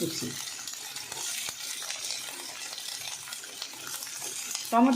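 Onion and ginger paste, then chopped tomato, fry in oil with a steady close sizzle and repeated stirring scrapes of a spoon in the pan, and a short voice at the end.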